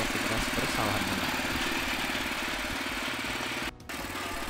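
A Valco VTL900U mini tiller engine runs steadily at idle, a continuous near, loud mechanical drone with an even throb that holds throughout, briefly dipping near the end.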